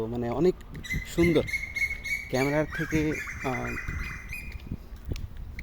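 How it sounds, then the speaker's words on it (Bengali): Birds call and chirp in a quiet, empty neighbourhood on the outskirts of a Malaysian town, with the calls mixed under someone speaking close by. "আপনারা ইতিমধ্যেই শুনতে পাচ্ছেন যে পাখির ডাক"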